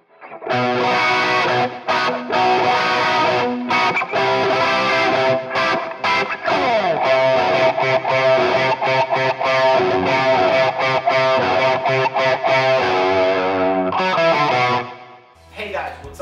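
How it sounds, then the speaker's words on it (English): Heavily tube-overdriven electric guitar, boosted in the mids and highs through Overloud TH-U, plays loud distorted riffs and chords, thick and saturated, continuing for a long stretch before a brief pause near the end. "the sound of this type of overdrive helps me to boost the mid and the high range"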